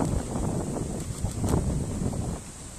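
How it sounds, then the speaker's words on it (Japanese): Outdoor wind rushes steadily against the microphone near mountains, a broad continuous roar with gentle gusts and no clear voices. "風が吹いてます。"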